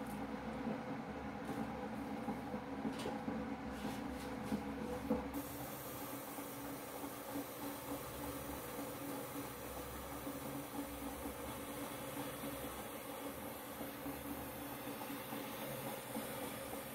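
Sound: facial steamer hissing

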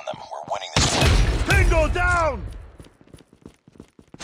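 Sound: predator missile strike in the video game Call of Duty Mobile

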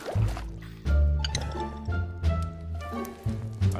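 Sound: flowing water in Minecraft VR video game

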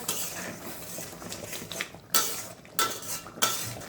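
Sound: mixing chicken bharta with utensil in pan

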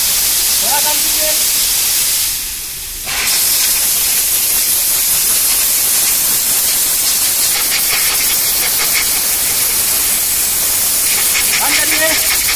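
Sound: compressed air blowing onto a cleaned car socket

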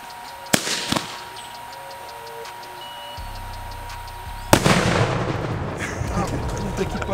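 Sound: explosion of rifle round inside watermelon

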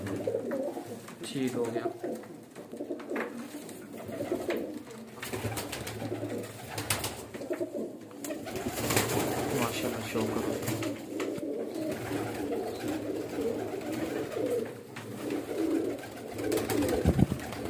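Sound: pigeons cooing in a breeder's loft

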